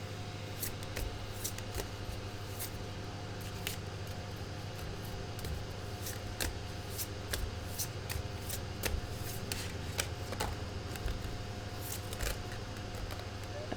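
Tarot cards being shuffled and pulled, soft papery riffles and flicks in quick irregular bursts over a constant low hum, close and fairly quiet.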